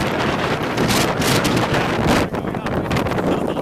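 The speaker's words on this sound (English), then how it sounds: "It's like crazy wind, dark green skies." Strong gusty wind during a tornado storm in DeMotte, Indiana, roaring and buffeting the microphone in loud surges that ease slightly toward the end.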